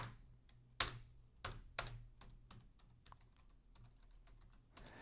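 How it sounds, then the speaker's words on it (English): Scattered taps on a computer keyboard, a few louder clacks among softer irregular keystrokes, close and quiet with no talking. "You can hear me tapping the keyboard"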